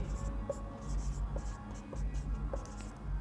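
A pen scratching across paper while math is worked out, steady soft scraping strokes with small taps, close and quiet, running under a voice speaking Hindi.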